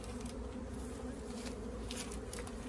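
A honeybee swarm being installed in a hive box makes a dense, continuous buzz, a steady layered hum of many bees close by, with no voices.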